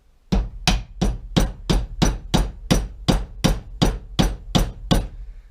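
A hammer taps on a steel screwdriver stuck in steel, striking thirteen sharp, evenly spaced blows at close range with no talk.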